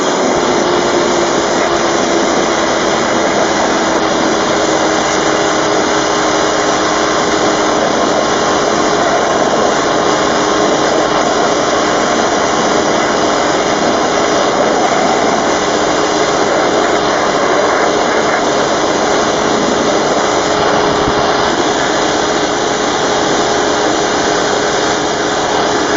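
An air compressor running at about 100 psi, feeding a quarter-inch line for GreenGrit media blasting, gives a loud, unbroken hissing roar with a steady high whine, no one speaking over it.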